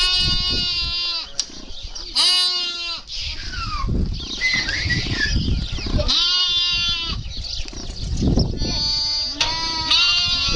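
Lambs on a farm in Turkey bleating repeatedly, several close loud calls spaced apart, with rustling and movement between them and people talking.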